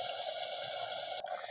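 Water poured steadily into a clay pot of chicken being cooked, a continuous bright trickling and splashing that runs evenly, then briefly thins and changes tone near the end.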